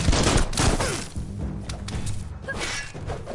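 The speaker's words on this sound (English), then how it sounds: "Blasting it. Hey, nice shot." Rapid bursts of gunfire in the video game Biomutant, a chaotic run of sharp blasts, thumps and crashing impacts, loud and close, with no talk over them.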